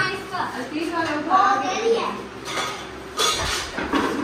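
Steel and bone-handled dishes and pots are handed over and stacked in a village home, with intermittent clinks and clatters under urgent talking nearby.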